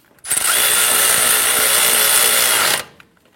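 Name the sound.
power tool tightening two 10mm bolts on knuckle bracket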